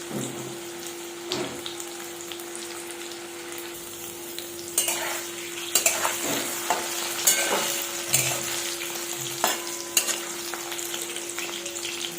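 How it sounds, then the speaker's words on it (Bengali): Hot oil sizzles loudly as food fries, with repeated scraping and stirring knocks over a continuous crackling hiss. "দেখুন তেলটি গরম হয়ে গেছে এবার আলুগুলি দিয়ে দেব"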